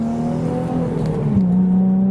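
A car's engine pulls hard while joining a motorway, a steady close drone with rising whir and a gear change partway through, no one talking.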